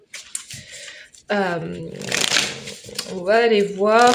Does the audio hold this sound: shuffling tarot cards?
yes